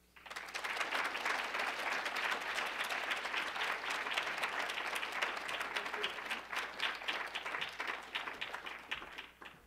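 Sustained audience applause welcoming a lecturer to the podium at a lecture on women and foreign policy, a dense, steady wash of many hands clapping that swells quickly and holds for nearly ten seconds with no talk.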